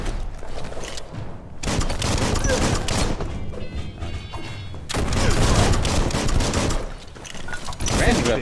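Gunfire from a ranged weapon in the video game Biomutant, loud dense bursts of rapid shots in long stretches with brief pauses, close and forceful.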